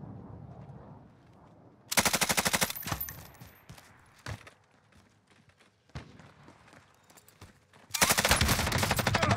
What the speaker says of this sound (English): he's using those frag rounds